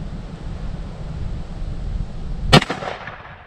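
A single sharp .45 Colt revolver gunshot cracks out loudly over wind and outdoor noise, followed by a brief echo.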